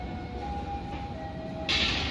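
A train leaves Leles station in Indonesia on the Cibatu–Bandung line, heard from inside the carriage as a steady rumbling hum with faint tonal whines and a brighter hiss near the end.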